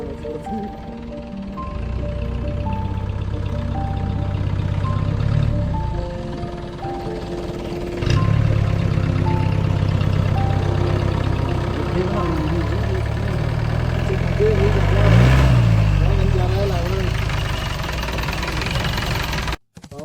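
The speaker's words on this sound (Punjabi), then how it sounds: "ਹਰਮਨ ਗੱਡੀ ਚਲਾ ਰਿਹਾ ਮੋੜ ਰਿਹਾ" A car engine runs steadily at low to mid revs while Harman drives and turns the car on a film set location, with a rise in effort around midway and a brief surge near the end before cutting off.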